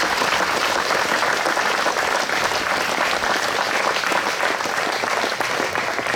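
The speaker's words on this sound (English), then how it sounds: "let's give these guys a round of applause" A seated audience at a summer camp chapel service gives a steady, enthusiastic round of applause, dense clapping holding at full strength throughout without a break.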